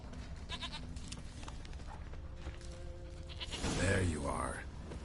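A goat in The Witcher 3 bleats once, loud and near, late in the clip, with wavering harmonic cries over a steady bed of game ambience and faint background tones.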